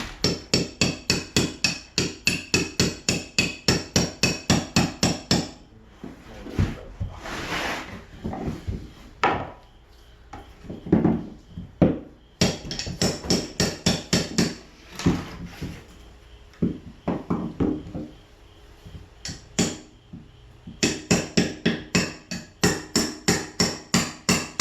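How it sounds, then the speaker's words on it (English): A pry bar is hammered like a chisel while prepping a mobile home floor, giving rapid, evenly spaced metallic-wood strikes in long bursts, broken by pauses filled with scraping, knocks and scattered irregular blows, close and loud. "Use your pry bar like a chisel."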